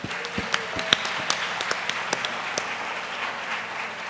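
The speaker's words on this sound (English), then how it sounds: "Let's give him another round of applause." Audience applause after a workplace-happiness panel introduction: moderate, scattered clapping with individual sharp claps standing out, steady and unaccompanied by speech.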